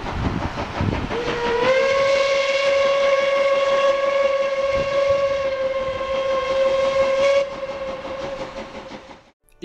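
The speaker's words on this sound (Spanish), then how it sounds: "para hacer sonar grandes silbatos, como los de los trenes." A large lighthouse fog-signal steam whistle, like a train's, blows one long, steady, loud tone with rich harmonics, starting after a breathy hiss and fading at the end.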